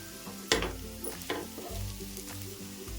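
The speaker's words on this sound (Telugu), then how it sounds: "వేసుకొని ఒక్క నిమిషం మనం వేయించుకుందాం" Potatoes tossed with fresh coriander fry in a pan, giving a soft steady sizzle with a few sharp clatters of a spoon stirring against the pan.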